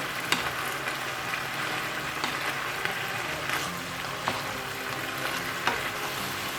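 Chicken pieces and green capsicum are stirred together in a hot frying pan, with a steady close sizzle and several sharp scrapes and clinks of a spoon against the pan.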